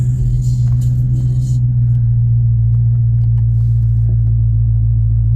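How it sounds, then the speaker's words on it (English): A 2015 Dodge Hellcat's supercharged 6.2L Hemi V8 with a K&N cold air intake idles in a loud, steady, close rumble, with a light rev blip near the start. "Okay, give it a little rev."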